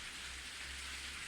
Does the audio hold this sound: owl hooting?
no